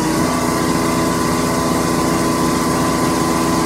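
Sewer jetter pump engine running steadily under throttle, a constant loud mechanical drone with pump whine, no speech over it.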